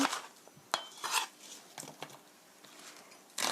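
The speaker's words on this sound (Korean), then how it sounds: "양파도 썰어서 앞을 잘라내시고요" Knife chopping an onion on a cutting board for braised pork and vegetables, a handful of sharp, irregular knocks and crisp slicing taps with short pauses between them.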